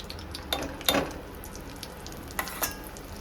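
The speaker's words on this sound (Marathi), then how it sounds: "स्लो फ्लेमवरती बेसन व्यवस्थित भाजून घ्यायचं आहे" Gram flour (besan) roasting in ghee over a slow flame for Diwali besan ladoo gives faint, soft scrapes of a spoon through the pan, with a few brief stirring strokes over a quiet, low background.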